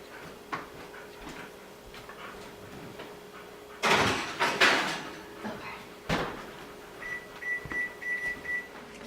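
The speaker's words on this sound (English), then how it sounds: "So here we go, put this in the oven." An oven door thuds shut after a dish of low-carb meatball parmesan goes in, a cluster of clatters and a sharper knock close by, followed by a short run of high electronic beeps from the oven controls.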